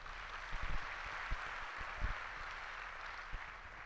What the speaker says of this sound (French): On peut applaudir le couple qui a passé tout à l'heure.